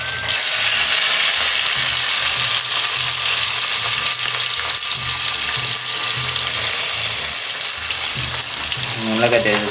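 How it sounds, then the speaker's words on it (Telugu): Paneer sizzling and frying in hot oil, a loud, steady crackle that fills the whole stretch with no break, alone without any voices. "నూనెలోకి అయితే వేసుకున్నాం, కొంచెం అయితే ఫ్రై చేస్తున్నాం."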